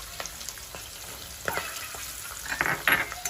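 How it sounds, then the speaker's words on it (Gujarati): Valor papdi and Surti papdi beans with peas being stir-fried in a pan for Kathiyawadi undhiyu: a soft continuous sizzle broken by several close spatula scrapes and clinks that grow louder toward the end, with no voices. "મિક્સ કરી દઈશું સરસ રીતે।"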